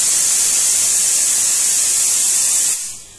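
A pressure cooker holding chana dal vents steam in a loud, steady high hiss that cuts off abruptly near the end, with no talking.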